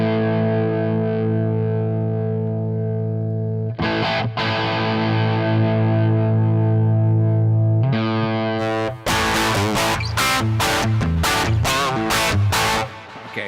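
A high-gain amp distortion guitar tone, loud and saturated, with long sustained chords giving way to choppy, rhythmic palm-muted stabs, and no voices.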